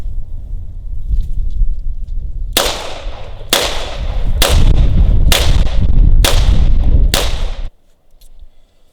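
Ruger LCR X .22LR revolver fires six sharp, loud shots spaced about a second apart, each cracking crisply before the shooting stops.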